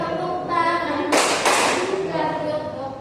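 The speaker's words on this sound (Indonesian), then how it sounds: "Buka tutup, bertepuk tangan" Children in a classroom clap their hands during a teaching exercise, a short burst of clapping in the middle rising over a background of singing-style voices and murmur.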